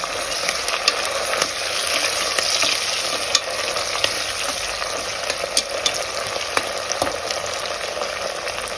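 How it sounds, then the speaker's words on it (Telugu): A finely chopped medium tomato fries in a hot pan with a loud, continuous close sizzle, punctuated by occasional sharp spatula taps and scrapes, with no talking. "ఒక మీడియం టమాటానైతే వేసుకొని వేయించుకుందాం"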